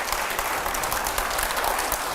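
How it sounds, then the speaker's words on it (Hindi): Studio audience at a Hindi TV news interview bursting into applause, a dense, continuous roar of clapping hands that stays loud and even throughout. "जोरदार तालियां"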